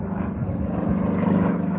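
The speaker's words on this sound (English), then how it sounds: "One of the things this airplane excels at is vertical performance." A propeller-driven aerobatic airplane with a lightweight, strong frame and high horsepower performs at an airshow, its engine droning loud and steady throughout a short moment.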